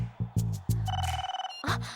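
Telephone ringing in a scene from the Telugu film Chintakayala Ravi, with sharp electronic ring tones between a few abrupt thumps, loud and close, with a brief steady tone in the middle.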